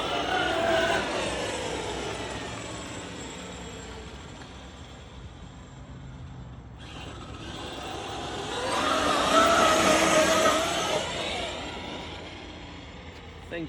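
A Traxxas Xmaxx 8S RC car with a TP5850 motor speeds across damp pavement. Its high motor whine fades away, then swells to a loud pass near the end, with a voice talking over it.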